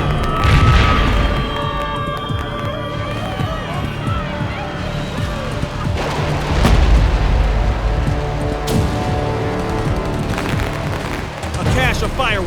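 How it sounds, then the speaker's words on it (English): A cache of fireworks at market stalls ignites in a chain reaction, with repeated booms, bursts and crackling detonations over continuous rumble, under a narrator's voice. "A cache of fireworks has ignited, setting off a destructive chain reaction."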